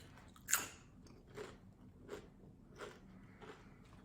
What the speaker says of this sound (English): they have the most satisfying crunching sound when you bite down on these